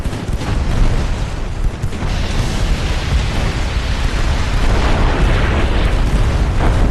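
Torpedo hits on warships in the naval battle game Ultimate Admiral Dreadnoughts, heard as a loud sustained roar of deep booming explosions and rumbling blasts that fills the whole stretch without a pause.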